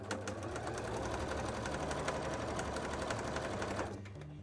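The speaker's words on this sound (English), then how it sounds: "let's sew around this a bit" A sewing machine runs steadily for nearly four seconds, close and loud, stitching a cosplay headpiece, its rapid needle rhythm buzzing continuously before cutting off abruptly near the end.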